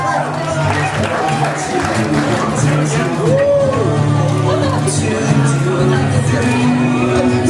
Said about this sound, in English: our wedding cake is officially cut. Let's give them a nice round of applause